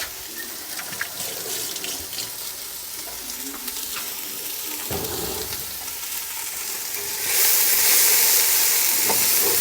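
Food sizzles in a pan with a hissing crackle that swells sharply louder near the end, alongside faint kitchen clatter.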